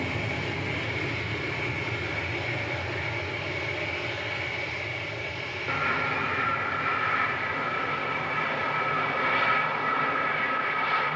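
Concorde 002 on its first flight at Filton in April 1969, its jet engines giving a steady, heavy roar that continues throughout and shifts in tone partway through.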